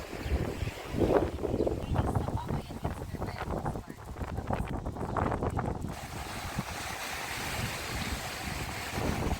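Wind gusts roar across the crowded seaside beaches of Odesa, between Arkadia and Zolotyi Bereh, buffeting the microphone with loud, uneven rumbling while faint surf and scattered background voices blend underneath.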